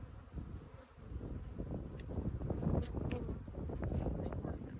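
Honey bees from an old, long-abandoned hive that has just been opened hum in a dense, continuous buzz close by, with individual bees droning past and faint wind noise underneath.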